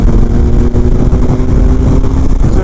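A 2016 Triumph Speed Triple R motorcycle pulls hard under acceleration, a loud, close, rough engine roar with steady droning pitch, heavy wind buffeting and no talk.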